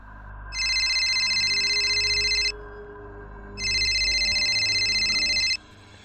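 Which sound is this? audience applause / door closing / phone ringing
phone ringing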